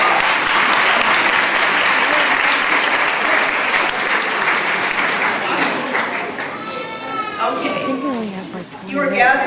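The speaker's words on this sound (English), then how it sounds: "Graduates, let's give these grown-ups a round of applause." Loud applause from a graduation ceremony crowd, steady clapping for about six seconds, then fading as cheers and children's voices rise near the end.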